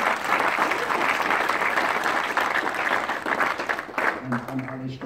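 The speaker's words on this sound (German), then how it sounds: "Vielleicht mit einem kleinen Applaus für die Gemeinde Starrkirch-Wil." Warm applause from the audience at an art exhibition opening, steady clapping that thins toward the end as a voice begins to speak over it.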